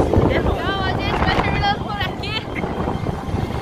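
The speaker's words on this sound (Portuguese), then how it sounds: "Olha só o vento. Que tá agora." Strong wind gusts at the LEGOLAND Japan park buffet the microphone in a continuous, loud rumble, with people talking over the noise.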